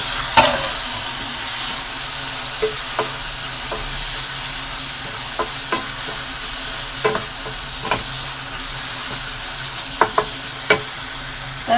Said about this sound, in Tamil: இதுக்கு தேவையானது போட்டுக்கலாம் போட்டு நல்லா கிண்டிக்கலாம்